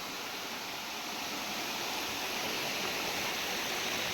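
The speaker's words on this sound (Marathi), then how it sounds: "असे तुमका छोटे छोटे धबधबे" Small hillside waterfalls and a stream in the countryside pour and rush in a steady, dense roar that stays even and close throughout, with no voices.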